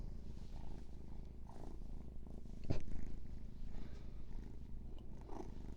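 A young, small cat purrs steadily and close by, a continuous low rumbling throb that runs throughout with a brief louder rustle near the middle.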